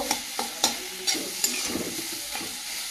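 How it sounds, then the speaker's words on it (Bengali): Potatoes fry in a pan, with a low sizzle and a series of spatula taps and scrapes at irregular intervals; no one talks. "এদিকে আলুটা ভালো করে ভেজে নিয়েছি"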